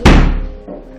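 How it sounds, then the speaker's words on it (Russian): A door slams shut indoors with one loud, sharp bang that rings out briefly and then fades, followed by a faint softer knock. "Можешь пока дверь закрыть"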